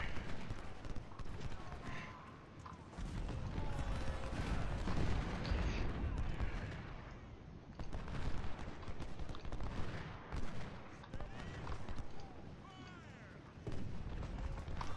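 Musket volleys crackle in the Civil War strategy game Ultimate General: Civil War, with dense, overlapping gunfire and battle noise rolling continuously at moderate loudness.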